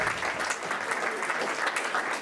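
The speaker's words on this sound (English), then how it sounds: "Big round of applause for them." A comedy club audience breaks into a sustained round of clapping, a dense, even wash of applause from a crowd that holds steady for the whole stretch without talk over it.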